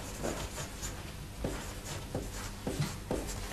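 Pen writing on paper during a courtroom witness exchange: a series of short scratchy strokes comes in a loose, uneven rhythm, close and fairly quiet, with no voices.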